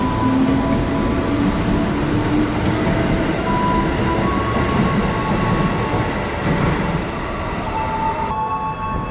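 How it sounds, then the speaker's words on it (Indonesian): A KRL commuter train rumbles loudly and steadily at a Jakarta station platform on the line toward Tanah Abang, with wheel clatter and rail noise filling all nine seconds and no talk. "sekarang kita lagi tunggu kereta api yang menuju ke Tanah Abang ya"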